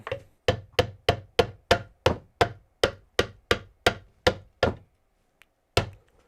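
Thirteen sharp hammer knocks on wood in a steady rhythm, loud and close, then a short pause and one last blow, heard in a woodworking workshop with no talking.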